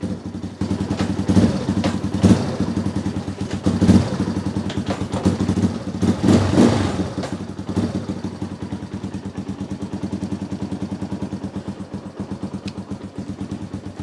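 An old Yamaha Warrior 350 ATV, recently revived after sitting unused for a year, runs with a steady low chugging engine note, revving up briefly a few times before settling back to a loud, even idle.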